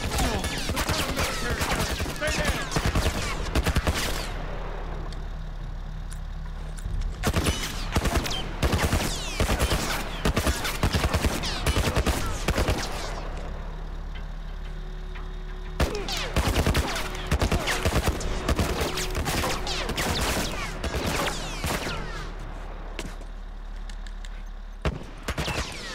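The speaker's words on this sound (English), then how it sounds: "What the fuck are they shooting at us?" Sustained bursts of enemy gunfire in The Last of Us, with dense rapid shots in clusters and brief lulls between volleys, loud and close throughout.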